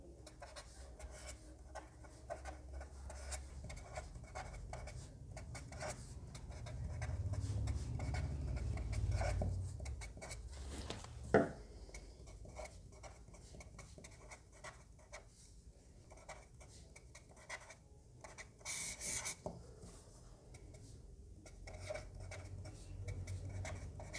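Faint, close scratching and rubbing of a pen writing a math matrix by hand on paper, with steady soft strokes and a brief sharper tap partway through, under a low background hum and no talking.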